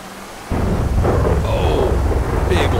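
A heavy rumbling thunderclap from a thunderstorm in Grand Theft Auto V breaks in suddenly after half a second of quiet, then rolls on loud and low with a faint crackle of rain.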